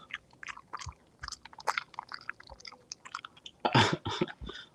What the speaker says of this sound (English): She chews so loudly.